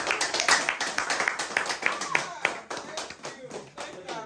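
Audience clapping for the president, a quick run of individual sharp hand claps in an uneven rhythm, fairly close, mixed with voices talking over them.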